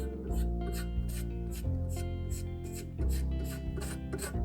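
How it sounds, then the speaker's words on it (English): A pocket knife scrapes lacquer off a wooden chisel handle, stripping toward bare wood: repeated rasping strokes in a steady rhythm, close and fairly loud, with no talking. "Basically stripping off all that lacquer until you get down to bare wood."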